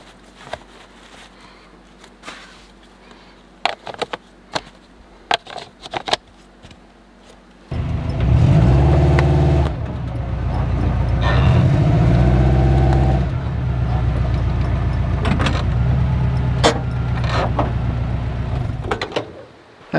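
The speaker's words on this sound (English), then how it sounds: "I use these blocks to shore up underneath my tires and get my van level." A camper van's engine starts and rumbles loudly as it rolls slowly onto leveling blocks under its tires at a backcountry camp spot, with scattered clicks and knocks heard before and during the idle.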